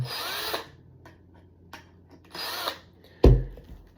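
A power screwdriver unscrews bolts from a 7-inch FPV drone frame in several short whirring bursts, followed by a sharp knock as a part is set down.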